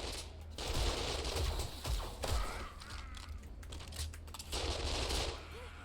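Rapid gunfire bursts in a zombie shooter video game crackle in repeated volleys, with mechanical clacks between them, fairly loud and continuous across the moment.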